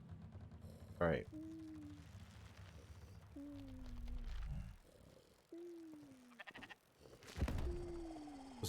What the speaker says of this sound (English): I wish those sheep would stop.